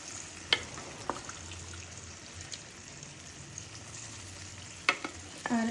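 Loitta (Bombay duck) fish pieces frying in hot oil in a pan for a fish curry, a steady soft sizzle throughout with a few sharp clinks of a stick stirring the pieces.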